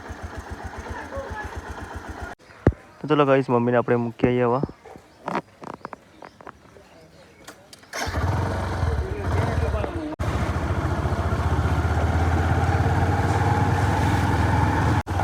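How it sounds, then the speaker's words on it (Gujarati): A motorcycle engine runs steadily at idle close by after being started, a continuous low rumble filling the second half, preceded by a person talking. "તો ગાઈસ બાઇક સ્ટાર્ટ કરી દીધું."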